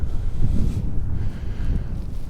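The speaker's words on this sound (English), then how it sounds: "It's kind of windy today" Gusty January wind in North Dakota buffets the microphone with a loud, low roar that surges and eases, with no voices.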